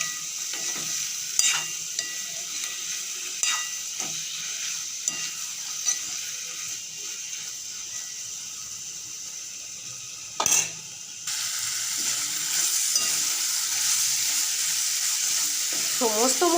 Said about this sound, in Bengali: এখন আমি দিয়ে সেদ্ধ করে রাখা মটর আলুটা দিয়ে সমস্ত মশলা দিয়ে ভালো করে নেড়ে চেড়ে